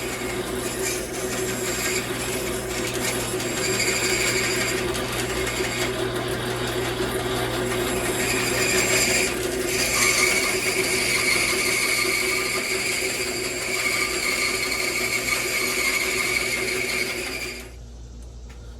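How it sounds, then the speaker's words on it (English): A bandsaw trims excess material from glued knife handle scales, a steady loud mechanical whir with a high cutting tone that runs continuously for most of the time before the blade comes off the work. "I'm going to take it to the bandsaw and take all this excess off."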